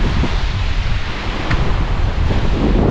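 Waves breaking on a beach beside a campground on a remote island, a continuous loud surf wash mixed with heavy wind buffeting the microphone, no voices.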